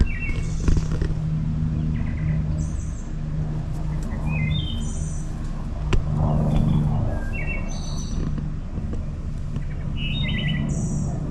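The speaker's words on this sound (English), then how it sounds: "we started hearing these really cool birds" Several birds chirp and whistle in short repeated phrases at a campsite in central Minnesota, some near and some farther off, over a steady low hum of outdoor background noise.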